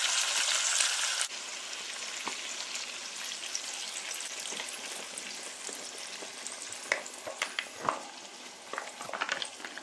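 Tilapia frying in a pan with coconut milk added gives a continuous close sizzle and crackle, with scattered pops and spatters growing toward the end.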